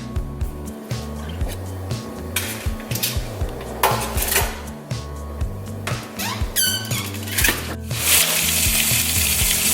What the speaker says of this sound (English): all I'm gonna do is broil these until they are done